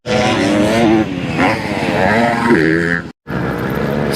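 A Red Bull KTM motocross motorcycle rides past at Fox Raceway, its engine loud and close, revving with rising and falling pitch, a brief cut-out of the throttle, then picking up again.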